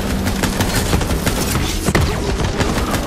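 Continuous gunfire from a Borderlands 3 firefight, dense and loud throughout with rapid bursts and booms layered over game music and effects.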